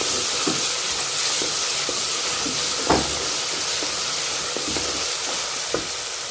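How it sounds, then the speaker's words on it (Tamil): Onions sautéing in a pan for chicken podi kuzhambu give a steady, even sizzle with soft hiss throughout, broken by a few faint stirring clicks and scrapes, with no voices. "வெங்காயம் நல்லா வதங்கிட்டுருக்கு"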